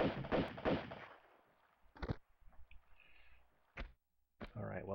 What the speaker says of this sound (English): That looks like gunfire.